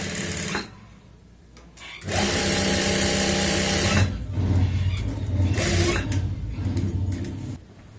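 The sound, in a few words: sewing machine stitching a pocket onto fabric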